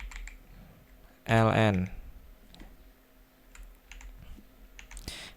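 Java code is typed on a computer keyboard in scattered, light clicks and taps, with a brief spoken word partway through.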